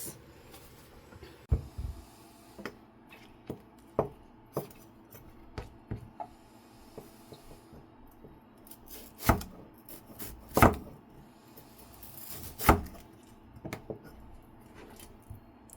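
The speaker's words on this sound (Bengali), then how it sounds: "এই যে এইভাবে আমি সব টমেটোগুলো এভাবে কেটে নিয়েছি।" A knife chops through tomatoes for a tomato bhaji with prawns, giving scattered sharp taps against a cutting board, about a dozen irregular cuts with a few louder thunks, close and fairly quiet with no talking.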